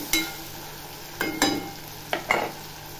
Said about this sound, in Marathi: चण्याची डाळ सुद्धा चांगली अशी परतून घेते